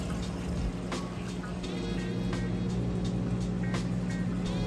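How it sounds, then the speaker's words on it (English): A Whirlpool HE top-load washing machine drains its wash water, a steady rushing gurgle with a low pump hum and occasional clicks, continuous and close. "If you can hear it, draining that water out nice and fast."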